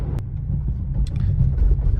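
Renault Zoe electric car driving along a rougher village road, a steady low rumble of tyres and wind noise heard from inside the cabin throughout.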